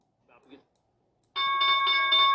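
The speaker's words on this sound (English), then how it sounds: "Bell's about to ring." Stock market opening bell: after a brief faint murmur, a loud electronic bell starts ringing and holds a steady, sustained tone.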